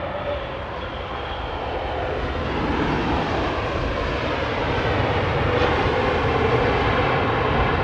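A jet airliner at London Heathrow Airport roars steadily as a broad, continuous engine rumble that builds gently in loudness, heard alone with no talking.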